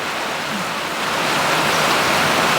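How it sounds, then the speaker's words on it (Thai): Heavy rain pours down steadily in a dense, loud hiss that fills the whole moment, growing slightly stronger, with no voices over it. "เพราะว่าฝนมันตก"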